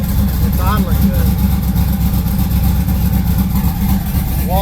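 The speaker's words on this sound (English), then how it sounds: "It's idling good" A car engine with a TH350 transmission idles steadily with a low, even rumble throughout, and brief voice-like sounds rise faintly over it.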